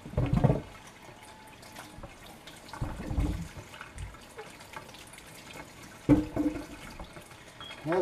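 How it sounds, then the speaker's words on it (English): Garden squash, still dirty from the garden, rinsed under a running kitchen tap, with splashing bursts of water at the start, near the three-second mark and after six seconds over a low steady flow. "Wash them off real good."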